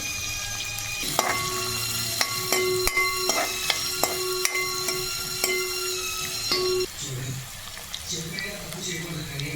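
Spiced chickpeas with chopped onion and turmeric stirred in a pan, a steady sizzle of frying under repeated sharp clinks and scrapes of a spoon against the pan, with a louder splash of sizzle near the end.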